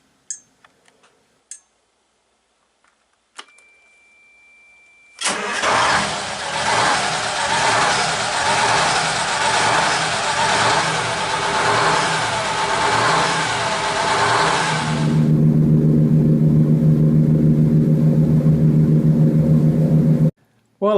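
A Detroit engine with a newly swapped starter motor cranks and catches after a few faint clicks, then runs loud and steady up close, its roar shifting to a deeper, rumbling idle near the end.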